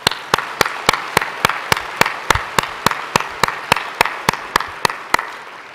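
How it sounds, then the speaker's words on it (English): A single pair of hands claps in slow, evenly spaced beats at a science conference plenary, each clap sharp and distinct against a quiet hall rather than blending into crowd applause. "I think we should have one more round of applause for these three very talented young scientists."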